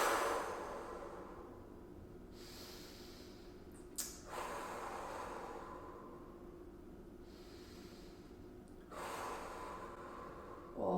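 Deep, heavy breaths held during a full-body stretch, three slow breaths with sharp gasping intakes and long hissing exhales, close and fairly quiet, with no talking.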